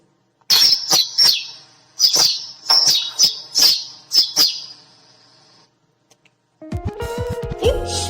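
A sparrow chirps in a quick series of sharp, bright tweets that come close together and sound near and loud, ending in a brief pause before a different harsher sound starts.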